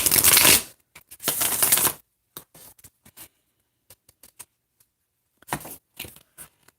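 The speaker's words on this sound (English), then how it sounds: "So let's go ahead and pull some more cards for Taurus." Tarot cards are shuffled up close in two quick riffling bursts. Scattered light card taps and slides follow, then another short shuffle near the end.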